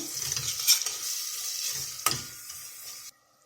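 Carrots stir-fry in melted butter in a pot with a soft, steady sizzle, broken by a few light clinks and a sharp scrape of the spoon before the sound cuts off.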